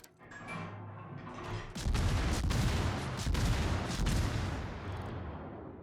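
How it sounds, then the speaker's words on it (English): Main guns of the Chinese Tier 9 cruiser Baotou fire in World of Warships, a sudden heavy boom followed by sustained rumbling blasts and a few sharper cracks over a steady low engine drone. "Unfortunately, we can't torp it, but we can main gun it."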